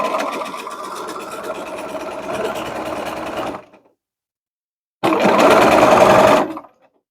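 A sewing machine stitches a pillowcase seam in white thread, running steadily for about three and a half seconds, then stopping. After a short silence it starts again for another burst. The sound is close and there is no talk.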